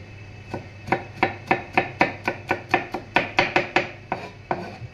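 Garlic being chopped finely with a knife on a board for a home-cooked lunch dish, about a dozen sharp, evenly spaced chops in a steady rhythm, close and clear with no talking.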